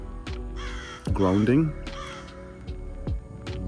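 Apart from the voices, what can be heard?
crow cawing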